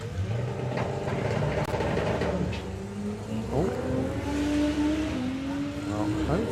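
Six-cylinder doorslammer drag racing car number 42 at the drag strip, its engine droning steadily with several sharp rising and falling revs, heard at moderate distance with faint background voices.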